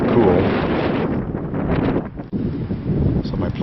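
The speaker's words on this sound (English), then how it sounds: "partly overcast, an intermittent snow shower every now and then, pretty windy" Strong gusty wind buffets the microphone on a partly overcast winter day with intermittent snow showers, a constant loud roaring rush with brief dips and no other clear sounds.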